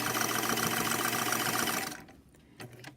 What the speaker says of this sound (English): we're just going to pull the fabric and let it feed it right into the needle and stitch it nice and neatly down